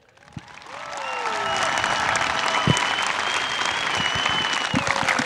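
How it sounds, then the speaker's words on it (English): An audience at a high school dedication event breaks into a swelling round of applause that builds quickly and holds steady, with scattered cheers and whistles over the dense clapping. "can we give one more big round of applause"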